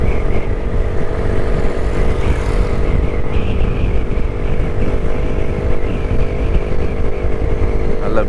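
A vintage Jawa motorcycle engine idles steadily and loudly up close, its even thumping beat running continuously with no talk over it.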